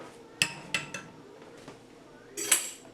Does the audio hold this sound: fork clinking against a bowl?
yes